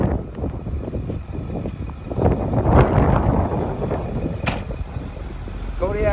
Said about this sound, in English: You guys probably can't hear me because it's probably super windy, sorry.